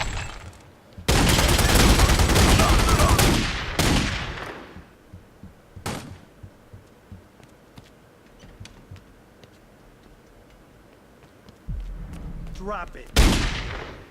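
Gunfire crackles through a crime game set in Florida: a long loud burst of shots up front, then scattered single cracks and a final sharp blast near the end, with a voice speaking briefly among them.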